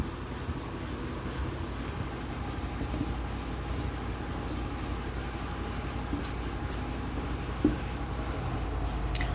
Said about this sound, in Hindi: चलिए आइए डेफिनेशन लिख लेते हैं।